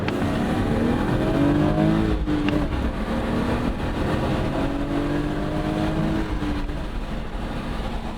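A BMW E36 with a manual gearbox and 193 horsepower pulls hard through the gears, pitch climbing and dropping with each shift, heard from inside with road and wind noise underneath.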